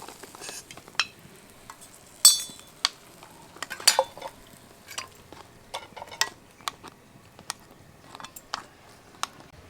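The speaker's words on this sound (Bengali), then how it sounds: "এবার বাকি মিষ্টিগুলো আমি ঠিক একইভাবে ভেজে নেব" Semolina sweets frying in oil, with scattered sharp clinks of a utensil against the pan over a faint, low sizzle, fairly quiet and with no voices.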